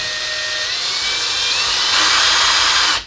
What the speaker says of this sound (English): that'll bottom out, and it has trimmed the case